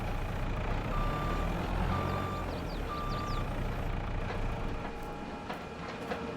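A CM CR600 sugar beet and stone crusher runs in Farming Simulator 22, giving a steady loud mechanical rumble with a few short repeating electronic beeps early on. No one talks.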